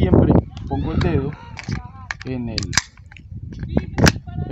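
A Zoraki 917B blank pistol in 9mm PA fires sharp, loud cracks, spaced irregularly and mixed in with someone talking close by.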